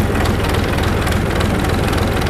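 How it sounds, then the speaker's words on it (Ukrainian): A DTZ 5244NRX tractor's cold engine runs just after starting, a steady loud low diesel rumble with a slightly uneven idle throughout, close by and without talk. "Ось така робота в нього. Зараз двигун холодний."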